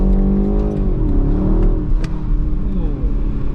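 A 2021 BMW 128ti revs up hard in first gear, its engine note rising steadily and loudly up close with a continuous rasping drone, while a faint voice briefly cuts in.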